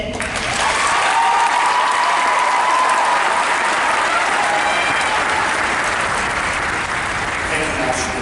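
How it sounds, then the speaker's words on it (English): A large graduation commencement audience applauds continuously, dense clapping sustained throughout at a steady, loud level. "give yourselves a pat on the back and a round of applause"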